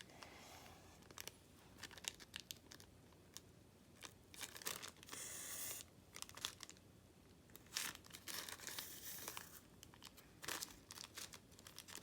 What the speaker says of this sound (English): ripping off the tissue paper